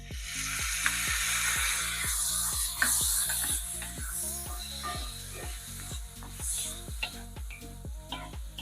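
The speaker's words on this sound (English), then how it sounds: "Gonna saute this. Now I'm gonna add a little bit of this garlic." Garlic sautéing in a pan for vegan pepper steak, a loud, steady sizzle running throughout, punctuated by a regular ticking rhythm of about two beats per second and occasional stirring scrapes, close up.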